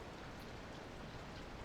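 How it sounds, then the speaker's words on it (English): Steady rain falling, an even wash of soft hiss without breaks, very faint and distant throughout. "Well, I guess it's been raining all day."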